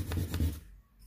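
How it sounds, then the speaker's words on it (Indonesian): Rubbing a Crush Gear toy part against 2000-grit sandpaper, a close, soft rasping scrape for about half a second before it fades to near silence. "Terakhir kalian gosok di kertas biar lebih halus lagi"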